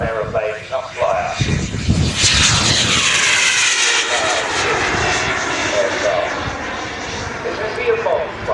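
A model jet turbine aircraft roars past at a model air show at Long Marston, a loud, sustained whine that swells and sweeps overhead, with a commentator talking over it throughout.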